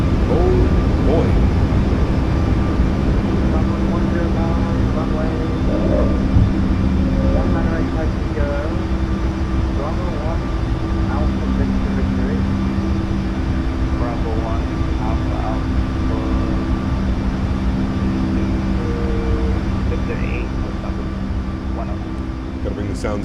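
Boeing 737 MAX 8 in a flight simulator rolls and climbs out on takeoff, a loud steady jet engine roar with a humming tonal whine held throughout, and someone talking briefly over the engines.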